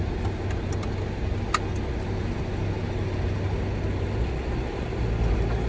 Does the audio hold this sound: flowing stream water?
no